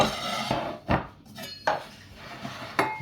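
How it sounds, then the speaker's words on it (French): A knife roughly chopping chicken on a cutting board gives a few sharp, separate knocks at an uneven pace, close and clear, with no talk. "on va commencer par hacher notre poulet"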